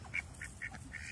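Pet ducks quack in a quick series of short, nasal calls, fairly close and loud, with no talk over them.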